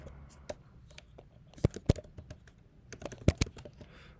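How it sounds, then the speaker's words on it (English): Password being typed on a computer keyboard: scattered light key taps with a few sharper, louder clicks in two short bursts, close and alone. "I'm just entering a password here."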